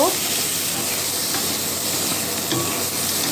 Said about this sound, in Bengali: টমেটোটা কিউব করে কেটে নিয়েছি, আর টমেটোটাকেও সুন্দর করে একটু ভেজে নিব।